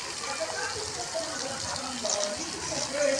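Water rushing at a resort wave pool, a steady broadband wash that stays constant throughout with faint voices in the background.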